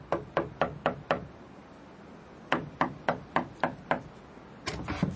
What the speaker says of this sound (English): I left the light on in the shed and went across to the cottage and knocked on the door.